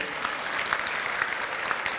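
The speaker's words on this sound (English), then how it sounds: "round of applause for our seniors" Audience applause for seniors at a children's program, a steady dense wash of many hands clapping, loud and continuous with no talk over it.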